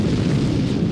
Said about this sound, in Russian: Я совсем забыл про взрывы.